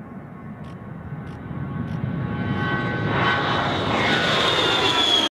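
A-10 Thunderbolt jet aircraft engines at an air base, heard as a loud, steadily rising turbine whine and roar that builds for several seconds and then cuts off abruptly.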